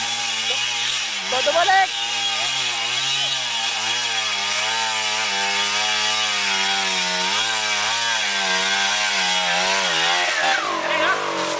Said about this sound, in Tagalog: Ang chainsaw no.